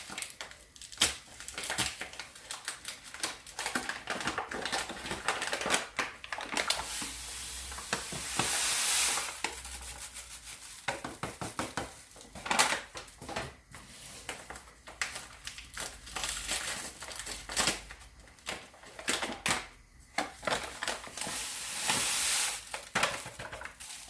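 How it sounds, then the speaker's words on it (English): Stirring sugar into a dandelion honey mixture gives a steady scraping, swishing rattle of spoon against pot, with gritty crunches and soft rhythmic strokes repeating at close range for a long stretch. "And then we stir that until all the sugar is dissolved"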